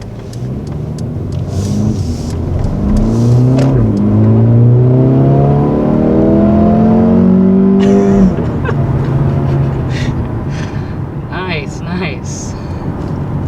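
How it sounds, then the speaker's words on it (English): A 2020 Mercedes-AMG CLA 35 with its small engine and aggressively shifting transmission accelerates, its throaty exhaust rising in pitch through sweeping revs and burbling, with conversation going on over the engine throughout. "It's got a throaty sound to it, and it kind of farts a little bit, got a little burble."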